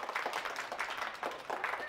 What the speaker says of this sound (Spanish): ¡Un aplauso para Miguel Ángel!